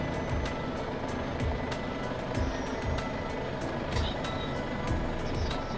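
A new Mitsubishi Fuso Super Great truck with custom fittings is put into reverse: a steady engine rumble runs under a regular series of high reversing beeps, fairly close, with no talking.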